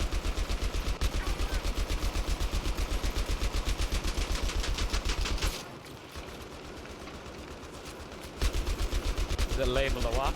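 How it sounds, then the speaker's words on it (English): Automatic gunfire in Battlefield 3 hammers in rapid, evenly spaced bursts, loud and close, pausing briefly midway before resuming, with a voice talking over the shooting. "I'm shooting at nothing."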